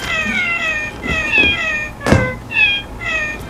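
A foot-played toy piano's electronic cat meows play several times in a row, each a short pitched mew at a slightly different note, clear and close.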